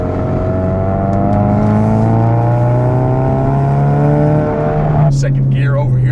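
A tuned 2017 Ford Focus RS with an aftermarket exhaust accelerates hard, its engine note climbing steadily through the gear, then a sharp shift and burble near the end.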